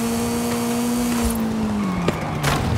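Race cars in Forza Horizon 5 launch into a street race, a steady engine drone dropping in pitch as they pull away, with a couple of sharp bursts and tire-squeal textures riding over the continuous roar.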